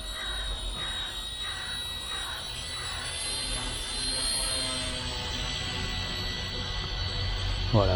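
A small ERA C127 AI RC helicopter hovering indoors, its whining rotor and motor tones steady and close throughout, with a slight rise toward the end.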